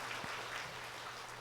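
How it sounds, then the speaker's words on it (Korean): A church congregation applauds in a brief, even burst of clapping that fills the room, with no voices over it. "우리 박수하겠습니다."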